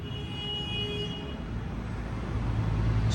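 The engine of a showroom-condition second-hand 125cc motorbike with 1,745 km on it idles in a steady, continuous hum, with street traffic and a faint horn in the background.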